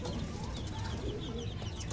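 Domestic pigeons coo in a rural backyard loft, a busy, close, continuous flock sound with faint clucking mixed in.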